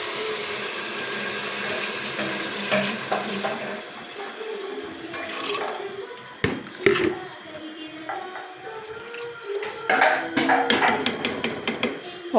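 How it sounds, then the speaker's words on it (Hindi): Water pours into a cooking pot of beef haleem with ground lentils, a steady running splash lasting throughout with a few louder surges near the middle and end, close by. "अब मैं इसमें पानी ऐड करूँगी।"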